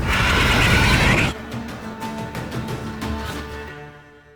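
A mare whinnies loudly in The Witcher Wild Hunt, one high neigh filling the first second before it breaks off, with game music and faint hoof-like clatter continuing quietly afterward.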